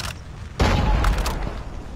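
A short, loud burst of hip-fire gunshots in COD Mobile rises suddenly after a quiet moment, then fades into lower rumbling.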